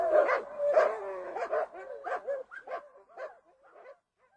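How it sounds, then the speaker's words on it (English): Several dogs barking at a gray-bearded man arriving in a village, a rapid run of sharp barks and yips that grows quieter and more spaced out before stopping. "the children point at his gray beard and the dogs bark at him"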